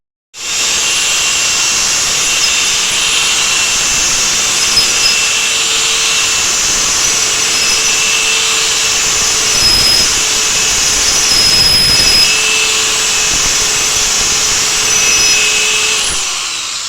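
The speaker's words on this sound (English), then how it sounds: "I think we're gonna have to use a drill to get rid of that piece." A power drill whines steadily and loudly, cutting through a plastic piece on a TV stand. The motor holds a constant pitch for over fifteen seconds with slight load dips, then winds down at the end.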